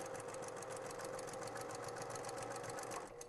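A sewing machine stitching a tool roll, running continuously with a fast, even mechanical chatter and steady whir, close and unbroken for the whole stretch.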